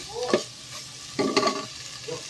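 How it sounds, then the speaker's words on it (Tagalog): Cabbage tossed into a hot pan for Filipino ginisang repolyo, with two bursts of stirring and scraping over a low sizzle, the second longer than the first. "Lalagay ko na yung repolyo"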